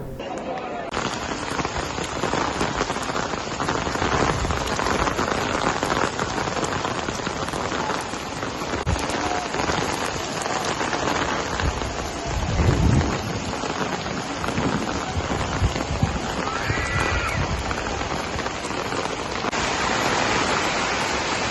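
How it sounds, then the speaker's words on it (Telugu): Heavy rain pours steadily onto surfaces at Tirumala, a dense continuous hiss with a low rumble swelling briefly midway; faint voices come through beneath it. "ఈరోజు వాతావరణం మారి తిరుమలలో వర్షం పడింది"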